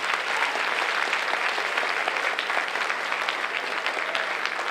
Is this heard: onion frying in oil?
no